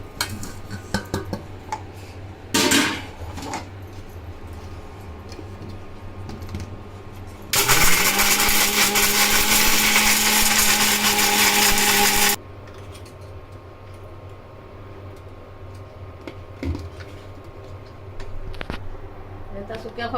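An electric mixer grinds roasted dry coconut with garam masala in a short, loud, whirring burst that starts and stops abruptly, with kitchen clatter and someone talking around it.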